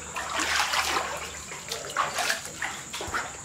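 River floodwater moves inside a building during the 2011 Brisbane floods, with sloshing, trickling and splashing water sounding close and steady throughout, broken by brief louder splashes.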